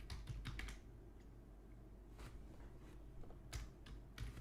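Quiet, irregular clicks of typing on a computer keyboard, coming in small bursts with pauses between, close and soft.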